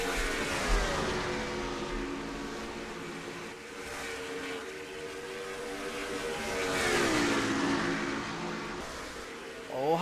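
Stock race cars roar continuously around a track in a racing video game, engines rising and falling in pitch as they pass, under faint commentary.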